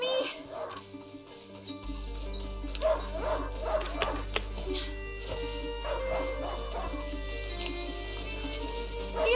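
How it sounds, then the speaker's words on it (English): Hunting dog Leo barks in the video game A Plague Tale, a few short barks over steady low game ambience and background music. "Leo, a hunting dog."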